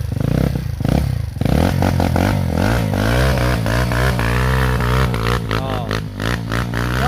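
A dirt bike engine revs hard on a Mt. Paldingan mountain trail, close and loud, with rising and falling pitch sweeps as the throttle works, plus clatter and scraping from the rough ground.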